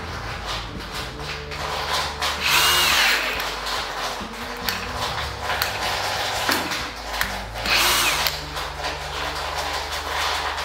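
An Einhell 18 V brushless drill driver drilling at speed 2 on a low battery, giving a loud, continuous motor whine with grinding bit noise and brief surges as it strains, with no talk.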